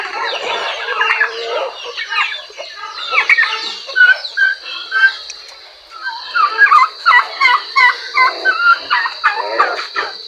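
Farm turkeys clucking and gobbling near at hand during feeding, a dense run of repeated bursts and calls overlapping one another, with a steady high hum behind them.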